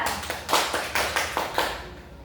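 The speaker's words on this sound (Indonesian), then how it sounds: "kita beri aplaus kepada Asa." A classroom audience gives applause after a student's presentation. About seven distinct claps land in an even rhythm, close and moderately loud, then stop, with no talking.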